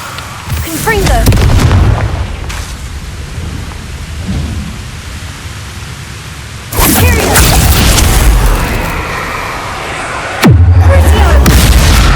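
The Confringo fire spell in the video game Hogwarts Legacy sets off loud booming blasts, with a rumbling burst at the start and two heavy detonations later over a steady roar, and a voice briefly speaking among them.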